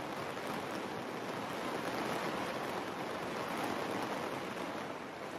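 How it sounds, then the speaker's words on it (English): Steady, dense rain patters continuously on a taut canvas cabin tent overhead during a storm, a constant hiss without pauses or voices. "I can feel the rain on my fingertips, but the water is not transferring through."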